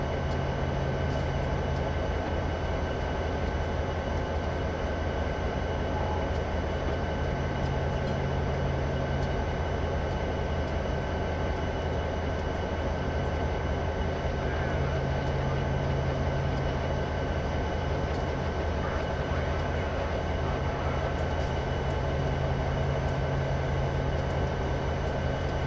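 Freight train with an SD70MAC diesel locomotive on Horseshoe Curve in Train Simulator 2015, a steady, loud, continuous engine drone and rail rumble with no talking.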